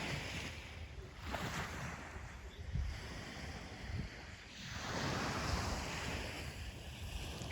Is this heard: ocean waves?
yes